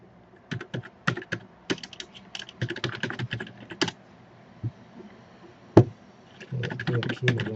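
A password is typed on a computer keyboard, with close, crisp key clicks in irregular bursts and short pauses between runs of keystrokes.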